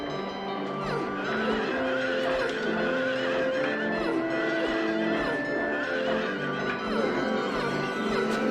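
A carousel horse neighing in the video game Silent Hill 3, a loud, sustained whinny layered over dense, unbroken game sound throughout.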